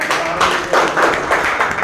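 A classroom of students claps together at the teacher's call, a brisk, fairly loud burst of overlapping hand claps with a quick repeating rhythm for about two seconds.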